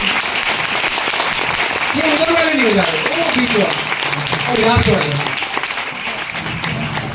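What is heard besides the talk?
audience clapping loudly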